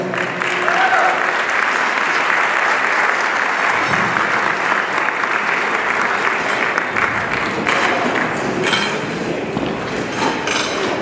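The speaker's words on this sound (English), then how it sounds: "Once again, let's give him a round of applause." Dense applause from a gala audience fills the room at a steady level, many hands clapping together, with faint clinks of glassware and tableware mixed in and slight fading toward the end.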